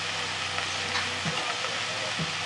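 Mushrooms and onions fry in olive oil with salt and pepper in a Lodge skillet over a very hot flame, producing a steady, dense sizzle with a low background hum and no talking.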